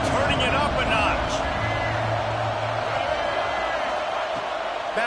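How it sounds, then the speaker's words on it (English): Big football stadium crowd at an Iowa vs Ohio State game, a dense, continuous roar swelling under a commentator's voice, with scattered whoops and yells rising from the stands. "this crowd is turning it up a notch"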